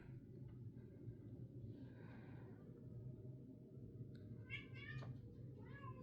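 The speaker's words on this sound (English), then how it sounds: "you can hear the cats, they're fighting in the background" Cats fighting indoors in the background, a few strained yowls and drawn-out meows at moderate distance over a low steady hum.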